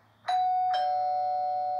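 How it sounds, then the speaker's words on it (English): A two-tone electronic doorbell chime rings once, clear and close, the second note lingering and fading slowly in a quiet room. "The doorbell rang again."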